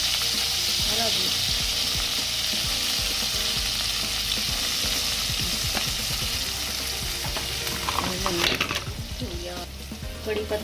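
Poha frying and being stirred in a hot pan, with a steady bright sizzle and scraping stir strokes throughout, rougher clatter near the end, and faint talk in the background.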